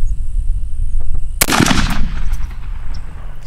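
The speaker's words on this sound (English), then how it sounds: "Fire in the hole." A 20 gauge shotgun loaded with TSS turkey shells, compared between Mossberg and Retay guns with an Indian Creek choke tube, fires one loud, close blast outdoors that rings out and decays over about half a second.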